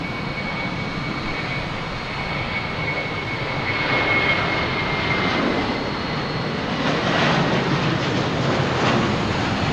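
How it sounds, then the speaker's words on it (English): A JetBlue airliner roars steadily at Boston Logan Airport, a loud continuous jet engine rumble with a high whine that swells slightly halfway through, heard from nearby with no talking. "We got a JetBlue here."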